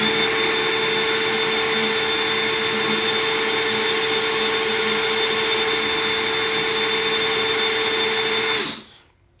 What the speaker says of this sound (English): I've basically just got the weight of the drill plus just minuscule pressure on it.